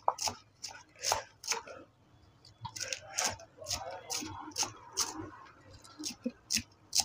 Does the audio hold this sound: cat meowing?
no